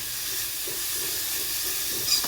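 Dill leaves frying in a pan for a dill leaf curry give a steady, hissing sizzle throughout, with one faint clink near the end.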